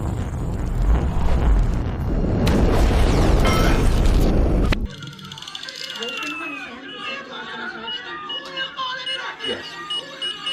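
A tank shot in the Iron Man movie sets off a loud, rumbling explosion that roars for about five seconds, then drops off to a quieter scene with people talking.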